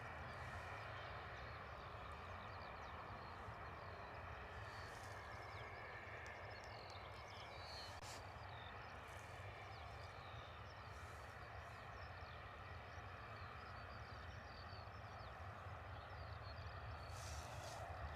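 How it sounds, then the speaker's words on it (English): Jet engines of an EasyJet Airbus A320 holding on a runway at Bristol Airport, a steady distant roar and hiss running unbroken throughout. "Next EasyJet A320 is out the door off to Nice."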